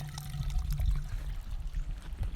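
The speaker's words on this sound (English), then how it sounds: "How to drain your water pump." Water draining from a shallow well pump, a steady low gurgling trickle and splash running continuously at close range, no talking.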